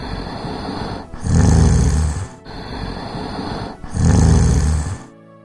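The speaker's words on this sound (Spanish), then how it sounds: "¿Qué hacemos para que perro deje de roncar?" A dog's snoring as a storybook sound effect: two long, loud rumbling snores, each a drawn-in rattling breath swelling to a deep heavy growl, separated by short pauses, close and alone.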